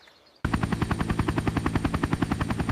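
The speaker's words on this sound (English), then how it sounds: "helicopter. Helicopter." A helicopter's rotor beats in a fast, even thudding rhythm, loud and close, starting abruptly after a brief quiet moment and continuing steadily alone.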